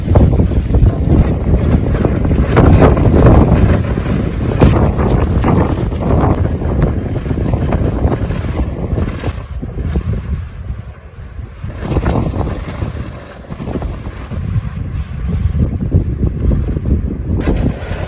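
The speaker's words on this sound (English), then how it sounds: "Freaking windier than shit out here" Strong wind blows around an outdoor mountain cabin site, producing loud continuous buffeting rumble on the microphone that surges and eases in gusts.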